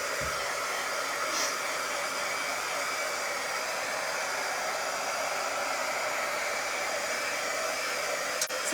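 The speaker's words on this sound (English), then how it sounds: "Let me get out my heavy duty dryer because I want to dry this really, really well and really quickly" A heavy duty hair-dryer-style blower runs steadily at close range to dry paint on a sports quotes plaque, a loud continuous whooshing roar with no pauses or talk.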